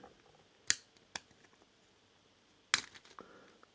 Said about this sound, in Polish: tu jest jeszcze blokada, którą oderwałem